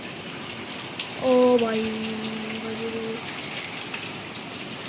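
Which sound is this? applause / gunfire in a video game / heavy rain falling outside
heavy rain falling outside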